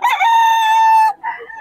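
A Boston Gilmore gamefowl rooster at a Bocaue market lets out one loud, close crow lasting about a second, followed by a brief softer call.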